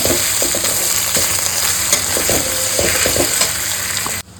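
Ginger and garlic frying in a pan alongside onion and fried potato, a loud, close sizzle with repeated sharp scraping stirs, cutting off abruptly just before the end.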